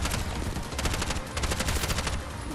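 Rapid gunfire from the video game Bright Memory: Infinite, a dense, loud burst of automatic shots rattling continuously from start to finish.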